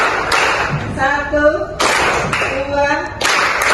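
Sharp hand claps ring out in spaced groups in a Javanese-language lesson, alternating with a voice counting aloud in Javanese in a sing-song cadence.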